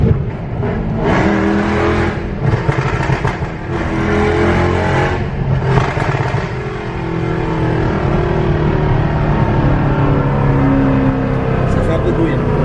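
Loud car engine accelerating and revving steadily over a sustained stretch, with people talking over the engine noise throughout, recorded during a long road trip.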